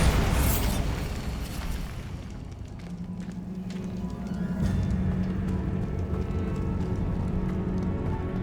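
Bombarda blasting spell in Hogwarts Legacy, a loud booming burst at the start that fades into rumbling debris and a lingering low drone.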